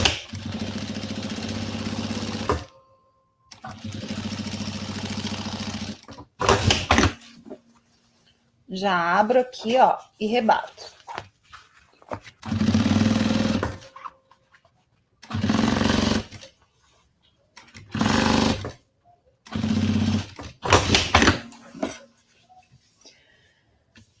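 Home sewing machine stitching lining and fabric to a zipper on a pencil case pouch, running in several steady bursts of a few seconds each, alternating with someone speaking in Portuguese between runs.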